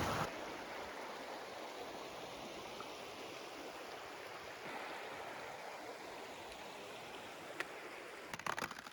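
A strongly flowing river rushes steadily at a trail crossing in Darby Canyon during a snowy ski and snowshoe outing, its broad continuous roar close by and unbroken, with a few clicks near the end.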